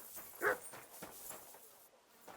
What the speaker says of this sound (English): Barking at buddy.